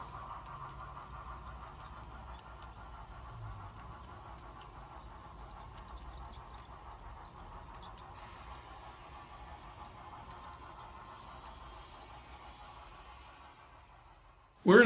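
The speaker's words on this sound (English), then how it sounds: "Then our train heads into a tunnel, which is the start of a 5-loop helix that takes it to the upper level." An HO scale model train on a club layout rumbles steadily along before heading into a tunnel at the start of a five-loop helix, a soft continuous hum at moderate distance ending in a sudden loud thump.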